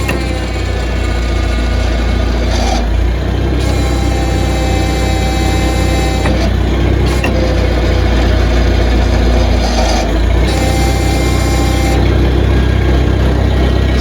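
Vintage Oliver 66 tractor engine running steadily at close range, a continuous loud mechanical drone with a few brief shifts in tone as the hydraulic lever is worked, no talking.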